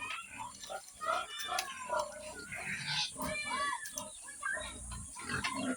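A very large three-month-old pig grunts in repeated low snorts throughout, close by, mixed with people talking over it.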